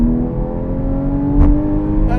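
A Porsche Cayman 981 GTS with the Porsche Sport exhaust drones and rises in pitch as it accelerates, with a throaty exhaust note, close and fairly loud.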